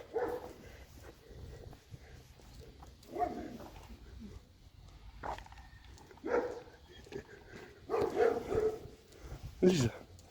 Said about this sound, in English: And there is another dog.